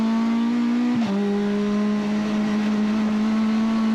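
Race car on the Ledenon circuit, heard from on board as a loud steady engine drone that shifts pitch abruptly once, like a gear change, then holds a constant note under acceleration.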